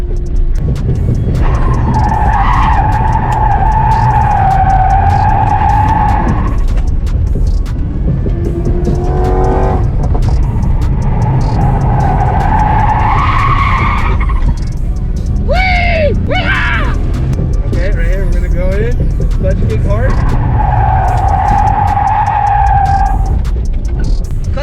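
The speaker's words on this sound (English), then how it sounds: "This is actually really fun when the car's actually sliding." A BMW 530i E34 slides around a track at a drift event, its engine revving hard in long sustained pulls broken by tire squeal and skidding, loud and close, with voices talking over it.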